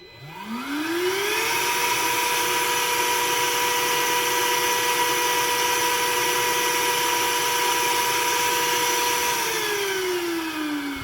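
A Bosch cordless wet and dry vacuum cleaner with duct tape sealing its hose spins up with a rising whine, then runs at a loud, steady roar with a high motor tone before winding down at the end.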